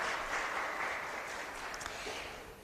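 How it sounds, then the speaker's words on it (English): At a tourism youth expo and career event in Jamaica, a room applauds a guest joining from Kingston with a steady wash of clapping that holds briefly and then fades slightly. "A round of applause for Mrs. Marie Smith Hall, who's joining us from Kingston."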